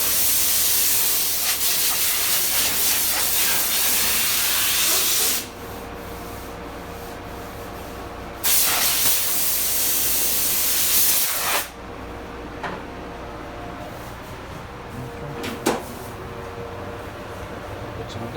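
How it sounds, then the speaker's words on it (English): Guide coat is sprayed onto the El Camino's body work in long steady hissing bursts, broken by short pauses and separated by quieter stretches of background noise, close to the listener with no clear talk. "Put some guide coat on this thing."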